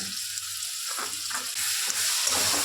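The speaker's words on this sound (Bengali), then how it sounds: "এই মশলাটা ভালো করে ভেজে নেব।" Chili, ginger and onion paste fries in hot oil as a loud, dense sizzle with stirring scrapes, the hiss growing stronger partway through.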